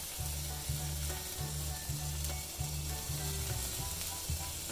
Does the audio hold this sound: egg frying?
yes